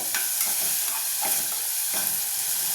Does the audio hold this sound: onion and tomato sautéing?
yes